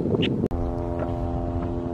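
A floatplane about to land at Lake Hood, Alaska drones with a loud, steady harmonic engine hum after a brief burst of broadband noise and a sharp click.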